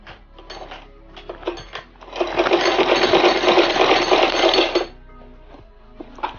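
A sewing machine stitches fabric for a hair bonnet, starting with a few short clicks and bursts, then running in one fast, continuous whirring stretch before stopping with a few more clicks, close by.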